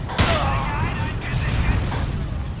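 Grenade blast in the Forgotten Hope 2 Battle of Brest game, a sharp boom with a rumbling tail amid steady background gunfire and battle noise, with talk over it.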